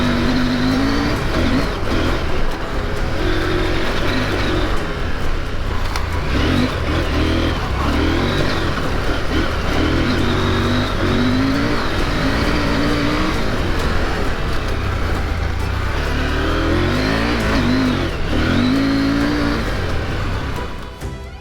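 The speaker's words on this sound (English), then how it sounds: "It's a sports bike engine in a dirt bike frame." KTM 890 Adventure R, a sports-bike engine in a dirt-bike frame, roars steadily and loudly while being ridden, its pitch rising and falling with throttle changes over about twenty seconds under constant wind rush.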